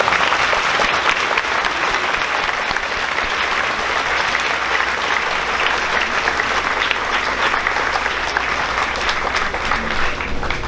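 Applause for students at a 6th grade graduation ceremony, a sustained, full round of clapping from a large audience in a hall, steady and loud for about ten seconds.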